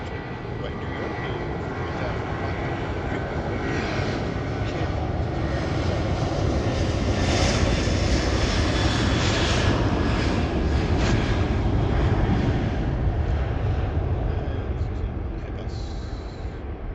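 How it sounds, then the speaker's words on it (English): An Airbus A340 jet airliner bound for JFK accelerating on its takeoff run at Heathrow, a broad sustained engine roar that swells to a peak midway and then slowly eases, heard from a distance. "This one's going to pick up some speed. It's going to JFK. It's an Airbus 340."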